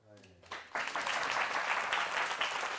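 Audience applause breaking out during a lively French-language event: after a brief moment of talk, clapping from a crowd starts up and continues steadily, fairly faint and distant.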